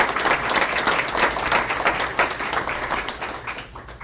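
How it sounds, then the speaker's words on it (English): Audience applause at a school board of trustees meeting honoring student athletes: a loud, dense burst of clapping from a room of people that fades toward the end. "Would give both of them a round of applause,"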